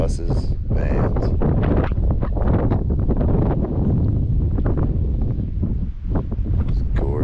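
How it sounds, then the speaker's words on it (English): Gusty wind rumbling across the microphone outdoors in a canyon at the Rainbow Gathering while a person talks over it throughout. "It's a gorgeous, gorgeous day. A little windy."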